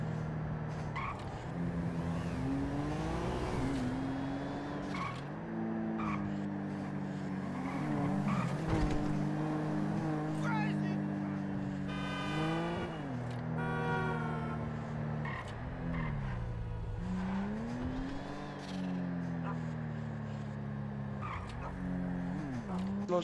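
A jeep engine in GTA 5 roleplay drones and revs up and down as it drives, with pitch sweeping through gear changes, steady and fairly close throughout.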